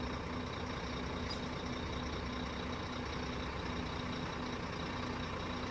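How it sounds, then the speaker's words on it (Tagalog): A Howo truck sits idling with a low steady engine rumble, and its air brake system adds a faint sustained tone and a brief hiss near the start; no one speaks. "Ayan yung brake tone."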